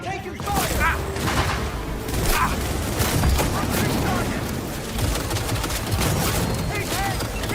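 Dense, loud gunfire from several weapons, with rapid bursts and booms, rattles through a Cyberpunk 2077 firefight while shouted voices mix into the din.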